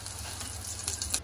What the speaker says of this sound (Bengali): সসেসগুলো ভেজে নিব।